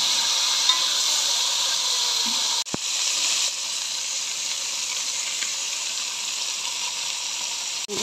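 Whole chicken frying in ghee with onion in a home kitchen, a steady loud sizzle and hiss throughout, broken by a brief clatter and a short dip near the middle and again at the end, with no talking.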